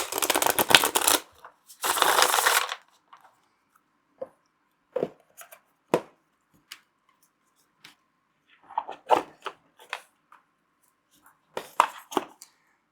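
Two quick riffle shuffles of a Tarot of Echoes tarot deck at the start, close and crisp, then scattered soft taps and clicks as the cards are squared and handled, with no voices.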